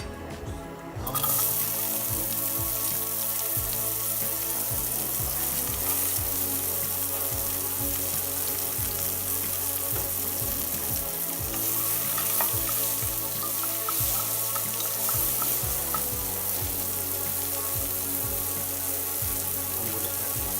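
Whole garam masala, cinnamon and bay leaf hit hot oil and fry with a loud, dense, steady sizzle and crackle that starts abruptly and carries on unbroken.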